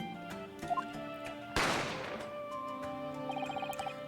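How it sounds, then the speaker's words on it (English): A single sharp gunshot effect from The Great Ace Attorney Chronicles game cracks out over quiet game music, a loud burst with a fading tail and no talk. "A gunshot rang out"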